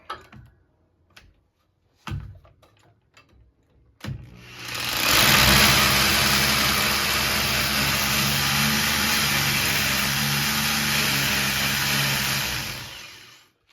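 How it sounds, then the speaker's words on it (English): A few faint knocks, then a loud continuous hammer drill with a 3/8 bit grinding into hard concrete for several seconds, steady and close, ending abruptly. "Take our hammer drill with a 3/8 bit."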